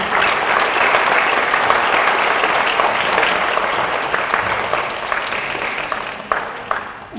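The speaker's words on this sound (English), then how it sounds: "Please give them another big round of applause." Audience applause fills the hall after an Odissi dance performance, a dense, loud, sustained wash of many hands clapping that slowly thins toward the end.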